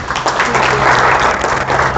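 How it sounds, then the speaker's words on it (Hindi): Loud, continuous applause from an audience fills the whole moment, dense clapping without a break. "एक बार जोरदार ताली उनके लिए।"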